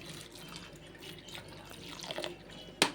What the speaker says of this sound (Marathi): आपण फ्लावर बटाट्यामध्ये पाणी ओतून घेऊया